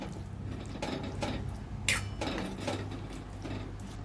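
Bombay duck and potato being mixed into fried masala in a pan, with repeated scraping and clinking of a utensil against the pan over a low kitchen hum, no talking.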